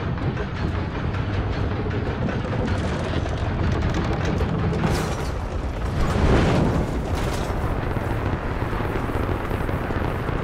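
A deep, rumbling blast swells out of continuous low noise, a game-style explosion from a shot blowing open a gate in Rise of the Tomb Raider, with a heavy boom and no talking.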